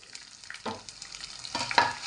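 Onions dropped into hot oil in a non-stick pan for tomato chutney, a soft, faint sizzle with a few brief stirring scrapes and light taps, quiet overall and free of talk.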